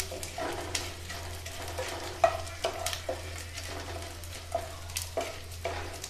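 Gond, edible gum, frying in a pan on low heat while being gently stirred, giving a quiet sizzle with soft, irregular scraping and light clinking taps against the pan.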